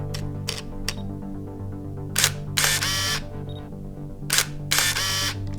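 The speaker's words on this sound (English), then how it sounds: "After each shot, the camera transports the film to the next frame." A Canon EOS 850 film camera fires its shutter and motor-winds the film to the next frame several times, each crisp close click followed by a short whirring advance, in otherwise quiet surroundings.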